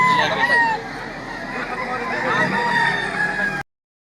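Gamecock roosters crowing at a fighting-cock market in Lipa, Batangas, several overlapping crows rising over a busy crowd with steady speech babble throughout.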